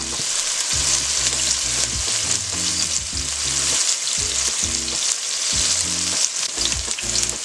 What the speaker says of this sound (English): red peppers, the onion, and the scallions. I'm just going to let that cook up for a couple of seconds